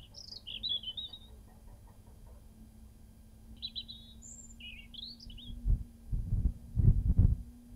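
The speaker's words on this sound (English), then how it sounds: "Let's see how well it picks up the bird song." Birds sing outdoors beside rustling reeds, with scattered bright chirps and short phrases at a moderate distance over low wind rumble and handling bumps.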